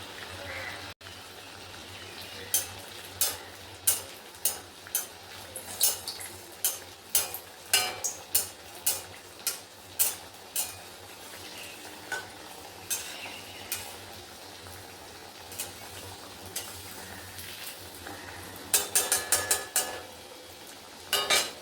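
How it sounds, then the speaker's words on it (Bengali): Spoonfuls of jhal pua batter dropped one at a time into hot oil over a medium flame, giving a steady soft sizzle with repeated sharp crackling bursts as each fritter hits the oil, louder again near the end. "এইভাবে এক এক করে সব ফ্রাই করে নিতে হবে"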